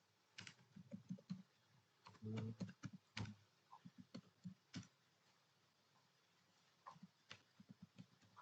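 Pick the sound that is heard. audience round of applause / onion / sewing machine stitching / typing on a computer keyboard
typing on a computer keyboard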